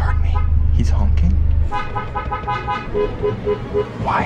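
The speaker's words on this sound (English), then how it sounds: "Why is he honking?" A car horn sounds with a low sustained blare, followed by several short toots over road and engine noise while a person speaks.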